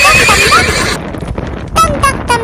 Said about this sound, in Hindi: दौड़ा दौड़ा दौड़ा घोड़ा दुम दबा के दौड़ा।